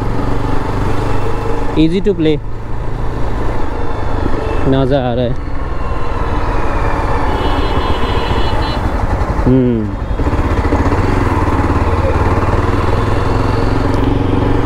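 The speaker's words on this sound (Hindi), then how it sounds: "अब एकदम न्यू बाइक है जो टेस्ट ड्राइव के लिए आई है" A new motorcycle on a test ride, its engine running steadily and close throughout, with a rider talking over the engine noise.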